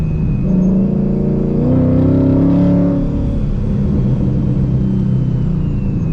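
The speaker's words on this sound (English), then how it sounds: "That's the AWE track exhaust for the Mustang." A boosted Ford Mustang fitted with an AWE Track exhaust and catted long-tube headers rumbles loudly and deeply at close range, swelling into a rev midway before settling back to a steady idle.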